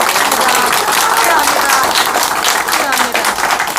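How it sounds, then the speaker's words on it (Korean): Applause from a crowd at a Korean political press conference after a presidential primary loss, a dense, steady wash of clapping running the whole time with some voices mixed in. "박수"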